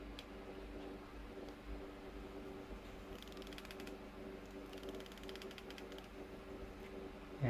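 A small electric motor, its speed and direction set through an H bridge with a potentiometer, spins with a faint, steady hum, and light mechanical ticking and rattling come and go over it.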